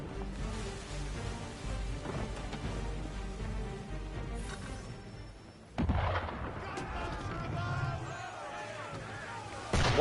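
Cannon fire from a ship in Assassin's Creed 3 booms amid a rumbling, rain-like wash, with a sharp heavy blast near the middle and another at the very end, and a voice speaking between them.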